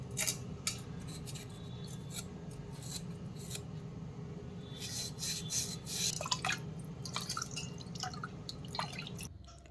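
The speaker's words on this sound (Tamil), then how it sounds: "நம்ம அந்த ஸ்க்ரப்பரை போட்டு லைட்டாக தேய்ச்சோன்னாலே இது ஃபுல்லாகவே போயிடும்" A brass oil lamp scrubbed and washed with a scrubber, close wet rubbing and scraping strokes in uneven bursts with occasional drips, fairly faint and alone.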